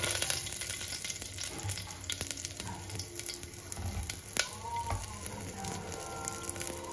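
Garlic cloves fry in hot oil with cumin, mustard seeds, curry leaves and asafoetida, giving a steady, fairly soft sizzle with a few light stirring knocks and no talk.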